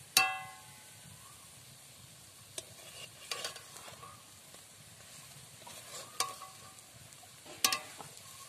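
Banana stem fritters frying in oil after being turned over, a faint, steady sizzle with occasional soft clicks and scrapes of a utensil against the pan, no talking.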